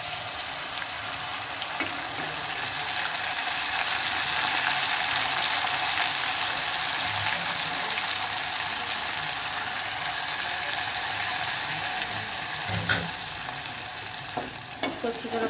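Browned onions fry with garlic-ginger paste in a pan, giving a steady, bright sizzle throughout, broken by occasional spoon scrapes and stirring clicks, with no voices.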